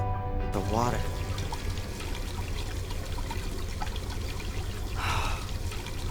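Water pours steadily and trickles in the video game Black Mirror 2, a continuous liquid stream running through the whole stretch with a low background hum and a brief swell near the end.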